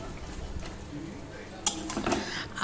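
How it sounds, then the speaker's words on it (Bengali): Drained taro stems stir-fried in a pan for a shrimp dish, with metal spatula clinks and scrapes against the pan standing out near the end over a low frying background. "এবার আমি জল ঝরিয়ে রেখেছিলাম কচু ডাঁটাগুলোকে আমি দিয়ে দিলাম। খুব ভালো করে এটাকে কষাবো।"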